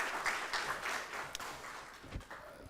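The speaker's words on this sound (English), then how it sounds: "Another round of applause for" Audience applause at an education project launch event, a faint, thin scattering of claps from a distance, fairly quiet and short.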